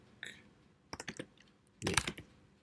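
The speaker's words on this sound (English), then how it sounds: "double click it and type something." A few quick keystrokes click on a computer keyboard, with a short cluster of taps followed by a denser burst, all fairly faint and close.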